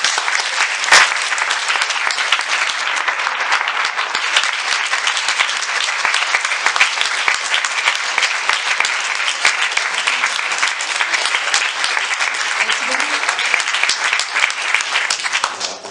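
Audience at a film screening breaks into sustained, dense applause that holds steady and loud throughout, a full room clapping without pause.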